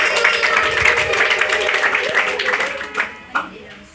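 A church congregation applauds and ululates in praise, a dense stretch of clapping and high trilling voices that tapers off with a few scattered claps at the end.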